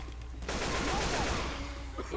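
Rapid gunfire from Left 4 Dead 2 rattles almost continuously for about two seconds, loud and dense, with game effects mixed in and no speech.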